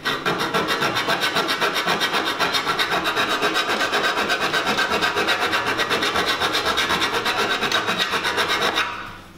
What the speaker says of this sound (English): the more we file it, the cleaner the cut and the easier it becomes